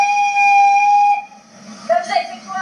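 A steam locomotive on a tourist railway in the Aa valley sounds its whistle, a loud, clear steady tone lasting about a second, followed by a short burst of talk.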